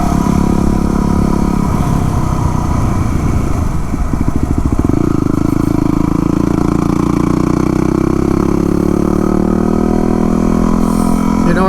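Yamaha WR250R supermoto motorcycle ridden along twisty roads, its single-cylinder engine droning loud and close with steady throttle and a shift in pitch partway through, wind rush underneath.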